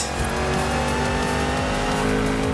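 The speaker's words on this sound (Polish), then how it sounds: "jest to Porsche Macan wersji RR, czyli e, zupełna nowość w serii Forza Horizon" Porsche Macan RR being driven in Forza Horizon 5, a steady loud engine drone with harmonic whine and faint tire noise running continuously, no talk.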